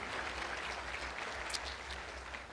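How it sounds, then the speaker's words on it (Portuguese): Applause from a church congregation, a steady diffuse patter of many hands held at a moderate level with a low rumble underneath, continuing without a break. "Então dê um aplauso para Jesus"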